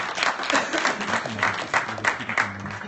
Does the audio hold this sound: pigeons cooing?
no